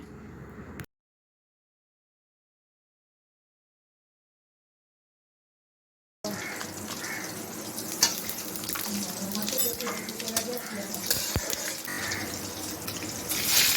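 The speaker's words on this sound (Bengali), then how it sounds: "এবার ফোড়নের জন্য নিয়ে নিলাম সর্ষের তেল দুটো শুকনো লঙ্কা একটি তেজপাতা পাঁচ ফোড়ন আর একটু আদা ঘষে দিয়েছি" Dried red chillies, a bay leaf, panch phoron and grated ginger frying in hot mustard oil, a steady crackling sizzle with occasional pops and stirring clicks after a long silent gap, no voices.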